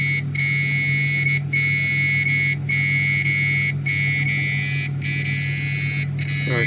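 An electromagnetic radiation detector sounds its siren alarm beside a running microwave oven. A loud, steady electronic tone repeats with brief breaks about every second, alone and up close.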